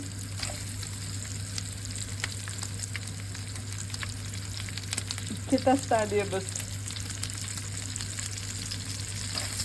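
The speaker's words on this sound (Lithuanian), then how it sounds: "Ir sudėsiu svogūnus, kad dabar apkeptų." Onions sizzle steadily in a frying pan for a winter home-cooked pork and sausage dish; a brief spoken voice rises over the frying near the middle.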